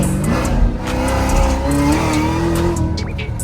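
An 800-plus horsepower Chevy C7 Z06 accelerates with traction control cutting in, the engine roaring loudly and close with a stuttering, wavering pitch and faint tire squeal.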